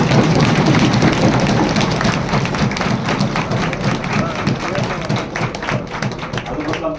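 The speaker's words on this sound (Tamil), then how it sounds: "அனைவரும் எல்லாரும் கைதட்டுமாக அனுப்பணும்" Dense, steady applause from an audience at a political youth parliament event, continuous clapping that stays loud and close before easing slightly toward the end.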